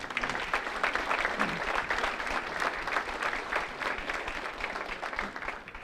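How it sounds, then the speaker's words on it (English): An audience at a hall of fame induction ceremony claps in sustained, dense applause that carries on evenly for several seconds before easing slightly toward the end. "with a round of applause,"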